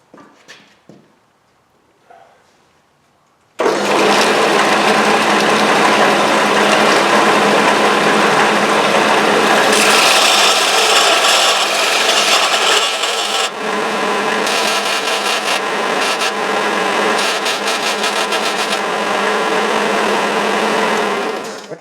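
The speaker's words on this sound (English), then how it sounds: "we're just going to dress this a little bit on the belt sander" Belt sander grinding a hot steel retainer for a 20 ton press, a loud continuous abrasive roar with a whining motor that shifts in pitch as the workpiece is pressed against the belt, starting abruptly after a few quiet seconds.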